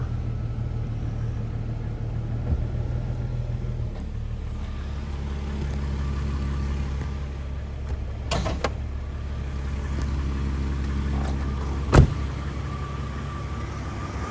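A 2001 Jeep Cherokee XJ Sport 4x4 idles steadily and close, with a low constant engine hum and a couple of brief sharp clicks near the end.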